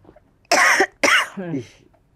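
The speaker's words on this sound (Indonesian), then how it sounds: "gue boleh batuk nggak?" A woman coughs twice in quick succession, close and loud, followed by a brief voiced throat-clearing sound.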